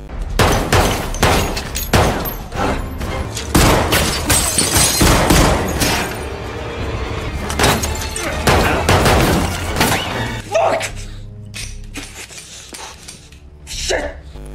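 A gunfight from the film Death Wish, with loud, dense bursts of gunshots fired in rapid fusillades, then quieter scattered shots and impacts near the end.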